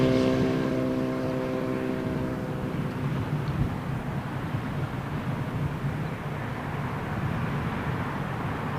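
An Etihad airliner in a special livery at Heathrow Airport roars loudly at close range, its engine rumble and whine steady and broadband throughout. A tonal whine fades in the first few seconds.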